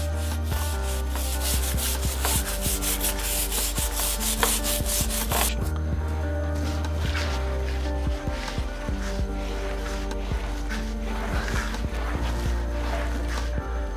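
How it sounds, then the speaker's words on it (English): Stiff brush scrubbing oily parts of a custom vintage Triumph motorcycle in a workshop, a steady close rasping scrub running throughout with brisk strokes, heaviest in the first few seconds and continuing alone without talk. "Then I'll give it a good scrub off here."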